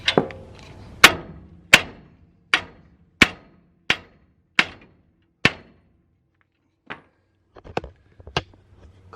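Hammer blows knock loose a car's ball joint, about eight sharp metallic strikes at a steady pace, then a pause and a few lighter taps, close and loud.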